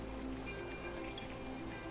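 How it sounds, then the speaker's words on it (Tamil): A little water trickling into a pan of jaggery on the stove, a faint, soft liquid dribble with a few light drips over steady low kitchen hum. "கொஞ்சமாக தண்ணி விடலாம்."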